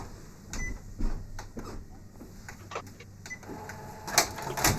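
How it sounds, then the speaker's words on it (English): An office printer runs near a board meeting, making irregular mechanical clicks, clunks and brief whirs at moderate volume over a low background hum. "Don't need the printer doing stupid stuff over here."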